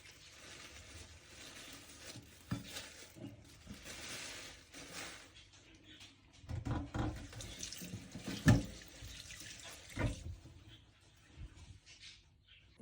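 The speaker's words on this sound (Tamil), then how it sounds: "இப்போ நான் மீன் எல்லாம் கழுவி எடுத்தாச்சு." Fresh tuna is rinsed under a running kitchen tap. Water splashes and gurgles unevenly, with louder spurts and bursts of handling in the middle and quiet stretches between.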